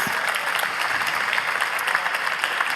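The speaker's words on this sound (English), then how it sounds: "Round of applause." An audience at the Latitude59 2024 pitch competition grand final applauds, a dense, even wash of many hands clapping at once that holds steady throughout.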